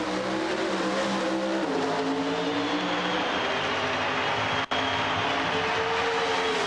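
A Dodge drag racing car at the 1990 NHRA Keystone Nationals roars at full throttle down the strip, a loud, steady engine drone with a rising pitch and one brief dropout near the end.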